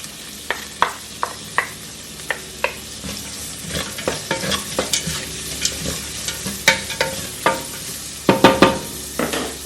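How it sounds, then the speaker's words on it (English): Chopped onion goes into a frying pan for dum aloo, with a spoon scraping and knocking in repeated strokes over a steady sizzle, close and loud, without talk. "And now I'm gonna add this onion, chopped onion here."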